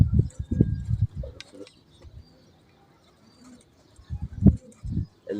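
Pakistani pigeons coo in short, low, throaty bursts, close by, in a cluster at the start and again near the end, with quiet stretches and faint chirps between.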